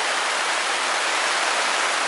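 Heavy rain falls during a storm as a steady, loud, unbroken hiss with no distinct drops or voices.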